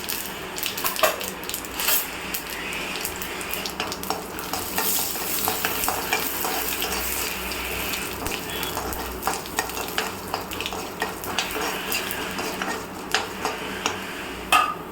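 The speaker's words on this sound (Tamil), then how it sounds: "கடுகு பொரிஞ்சிருச்சு." Mustard seeds and urad dal splutter and crackle in hot oil, a tempering for a South Indian kootu, with steady sizzling broken by sharp popping clicks throughout, close and fairly loud, no voices.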